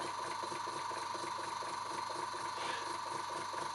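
A small model steam engine runs very slowly, a steady rhythmic chuffing and mechanical clatter repeating at an even pace, close and moderately loud, with no talk.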